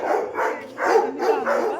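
An angry dog barks in a series of loud, close, rough barks with short pauses between bursts, out on a street walk where large dogs sit behind a gate.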